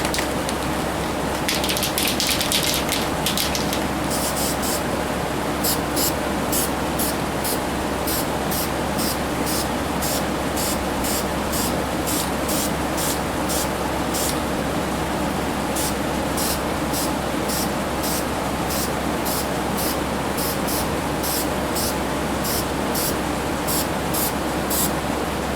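Unpainted bolts being spray painted orange, a steady hiss of aerosol spray in repeated short bursts over constant broadband background noise.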